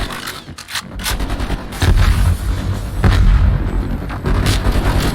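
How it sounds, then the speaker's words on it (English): A grenade explodes during a Call of Duty Black Ops Cold War campaign firefight, one of several booming blasts amid rapid gunfire, loud and close, with heavy low-end thumps recurring every second or so. "Incoming grenade."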